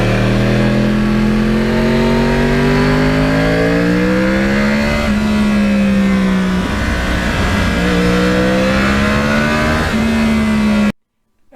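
Yamaha R1 crossplane sport bike, fifteen years old with 38,000 miles, its engine held loud and close with gliding pitch as the revs rise and fall, then cut off abruptly at the end.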